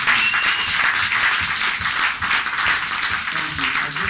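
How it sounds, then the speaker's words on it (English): An audience applauds at a political endorsement event for an Illinois 14th District congressional candidate, a dense, steady, loud clatter of many hands that fills the whole stretch without letup. "Let's have applause for that."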